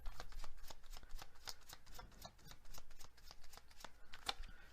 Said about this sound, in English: let's get some more tarot cards for you guys